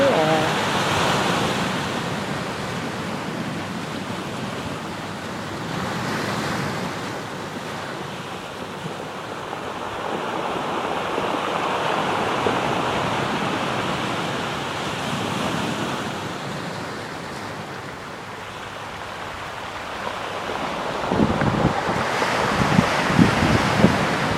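Broadband ocean sea wind and rolling surf at sunset fill the scene steadily, with a gust and some low thumps near the end.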